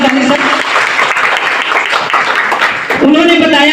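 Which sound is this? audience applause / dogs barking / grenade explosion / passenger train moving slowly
audience applause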